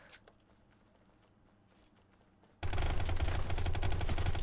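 Gunfire in the Brick Rigs video game, quiet faint mechanical ticks at first, then a sudden loud burst of rapid automatic fire that keeps going to the end.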